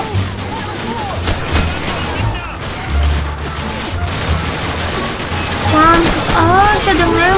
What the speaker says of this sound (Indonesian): Pantes aja ada nembak dari kiri